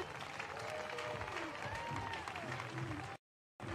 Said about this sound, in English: A well-deserved round of applause after an incredible rally.